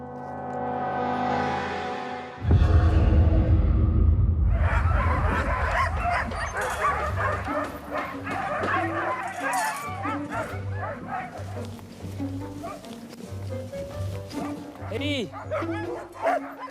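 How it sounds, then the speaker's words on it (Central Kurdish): Husky sled dogs in Svalbard, a chorus of many dogs barking, yipping and whimpering together, loud and close, building after a rising howl-like opening and continuing throughout. "ئەمانە سەگی هۆسکی پێڵێن"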